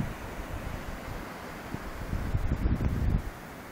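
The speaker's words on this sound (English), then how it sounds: "I'm out here in the windy." Steady outdoor wind rushing and buffeting against the microphone in a yard around sunrise in Austin, Texas, with gusts swelling toward the end.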